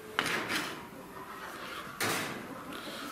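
A small chicken cage door clatters open and shut twice, with brief scraping and knocks, close and fairly quiet, with no voices.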